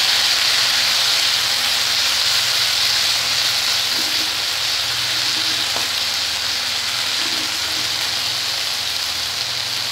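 Noté greens (amaranth) fry in a pan over a medium flame, a steady loud hiss and sizzle running unbroken for the whole stretch, with faint stirring clicks and no voices.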